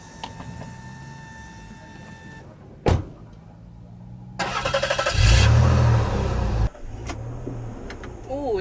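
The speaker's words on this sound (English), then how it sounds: "start her up. Let's listen to that V6 burble" A Rover V6 car engine cranks with a sharp starter burst, then catches and settles into a loud, rumbling burble close by. A brief rev swells before the idle continues steadily.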